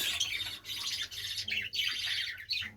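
Budgerigars, blue and yellow birds including a red-eyed lutino with chicks, chirp and twitter close by in a dense, nearly continuous chatter, with brief gaps between bursts.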